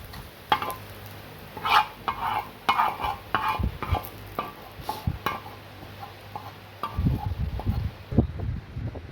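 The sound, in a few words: fried onions being stirred and removed from pan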